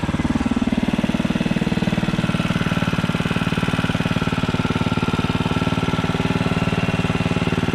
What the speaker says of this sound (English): Definitely tell it's a 79cc motor, but she's running.